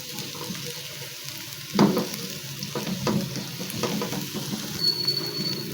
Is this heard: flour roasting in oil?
yes